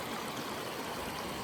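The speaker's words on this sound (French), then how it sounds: "ça repart en petite cascade." Water tumbling down a small cascade through rock fissures at a gold-panning spot, a steady close rushing and trickling that fills the short moment without pause.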